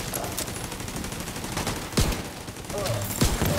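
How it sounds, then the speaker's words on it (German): Sustained automatic gunfire in the video game The Division 2, a dense rattling burst running throughout with a few sharper cracks standing out, loud and close with no talk over it. "100 Schuss in einer Spur abgeratzt"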